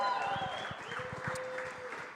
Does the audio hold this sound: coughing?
no